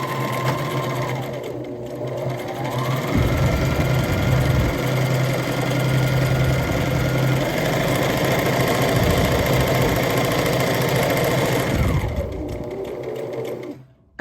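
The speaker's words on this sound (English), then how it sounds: "So I'm gonna start with back stitching." A sewing machine back stitches, then runs continuously while shirring fabric for a peplum top, a loud, close, steady motor hum with a slight change in pitch as it speeds up, and no talking.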